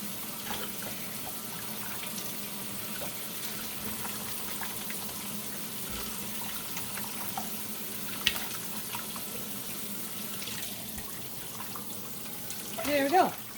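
Water runs steadily from a tap while tangled handspun linen skeins are rinsed, a continuous even splashing rush with a few small knocks and a slightly louder swirl near the end.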